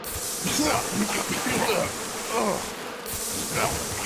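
A dense, steady buzzing of many bees fills the air, close and continuous without a break.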